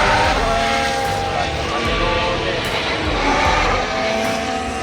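Formula 1 race cars run at the Japanese Grand Prix, heard from near a tunnel exit in the rain. A loud, steady engine roar echoes throughout, with voices faintly underneath.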